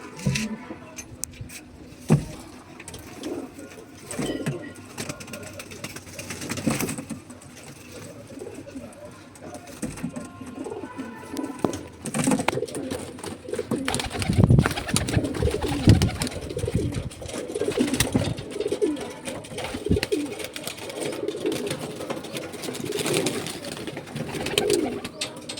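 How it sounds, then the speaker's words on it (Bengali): Kaldom and Malbai pigeons coo repeatedly close by after being let loose, a busy overlapping chorus that grows louder and denser in the second half, with some faint rustling. "তো পায়রাগুলো আমি সবকটাই একবারে একটু ছেড়ে দেখাবো।"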